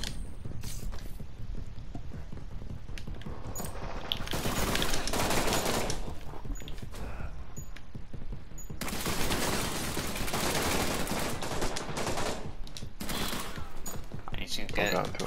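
Repeated gunfire from a Resident Evil video game with Leon wielding a shotgun, dense bursts of shots and impacts sounding continuously throughout, loud and busy with game effects layered over it.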